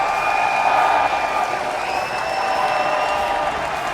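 A large arena crowd at the Rainbow Six Munich Major roars and applauds steadily before the grand final, a dense, continuous wash of cheering with whistles and whoops rising through it.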